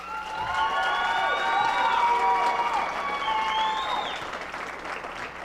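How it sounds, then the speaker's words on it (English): Fans in a gym at a men's college basketball game clap and cheer, a moderate, swelling wash of applause with sneaker squeaks from the court cutting through. "But if everybody can give Jalen a big round of applause."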